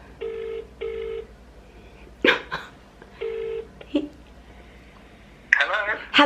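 An outgoing phone call rings out: repeated paired ringback tones come over the handset speaker, with brief bursts of a voice between them.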